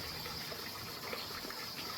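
Clear liquid is poured straight into a container for cleaning bones outdoors, giving a steady, close trickling wash of sound for a couple of seconds with no voices.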